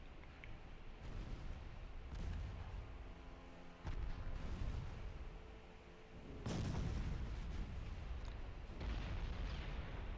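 A battleship flash fire explodes in a naval warfare game, with deep rumbling booms and bursts that swell and roll at intervals over a continuous low roar, fairly quiet overall.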